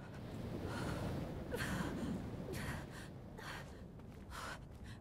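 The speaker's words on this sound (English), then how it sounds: "crying and gasping." A character in Brothers: A Tale of Two Sons cries and gasps in a series of breathy sobs and sharp intakes of breath, repeated over several seconds against a soft game background.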